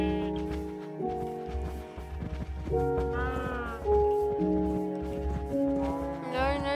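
Sheep in Minecraft bleat over and over in short, wavering cries that overlap against a steady background tone, fairly close and clear, with a voice talking faintly in between.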